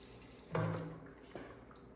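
Gasoline splashes briefly into the carburetor of an engine that will not run, with one short liquid gush followed by a fainter second splash, close by and otherwise quiet.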